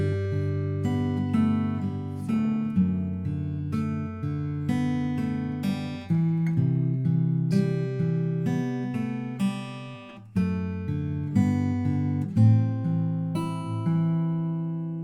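An acoustic guitar plays the first line of a song's tab: picked chord arpeggios and melody notes flowing steadily and ringing together, close and clear, with no talking over the playing.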